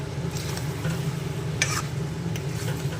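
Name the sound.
potatoes and chicken frying in pan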